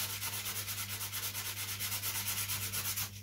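Hand sanding roughs up a carbon surface on a Leonardo da Vinci flyer model, a steady close rasping rub in quick rhythmic strokes, heard alone.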